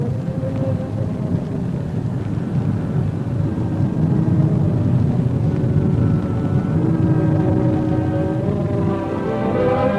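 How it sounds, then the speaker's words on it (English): A drone plane touches down at about 100 miles per hour and rolls freely without brakes down a runway, giving a steady, loud engine and rolling rumble that carries on without a break. "The plane comes in at approximately 100 miles per hour, touches down, and rolls freely, without the application of brakes,"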